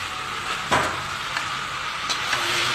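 Potatoes and pointed gourd with spices sauté in a pan, a steady hissing sizzle with a couple of louder scrapes or stirs, and no talking.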